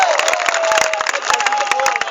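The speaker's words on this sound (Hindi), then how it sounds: "एक बार ताली बजा दीजिएगा" Audience applause at a kavi sammelan poetry event at an engineering college, a brief, dense burst of many hands clapping with crowd noise and a faint voice underneath.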